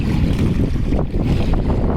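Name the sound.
strong wind at the waterside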